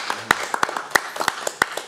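A small studio audience claps for a guest on a television talk show: a dozen or so sharp, scattered handclaps, fairly near and uneven, with no voices over them.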